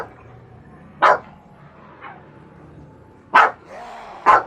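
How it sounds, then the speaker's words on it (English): Dogs bark in short, loud, separate yaps, one near the start and two close together near the end, with a faint distant woof between them and quiet background hum throughout. "I don't know why the dogs are barking."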